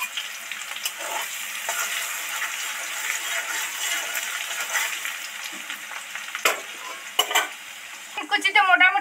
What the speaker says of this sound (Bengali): এবার এর মধ্যে থেতো করা রসুন কুচিটা সবার আগে দিয়ে দেব।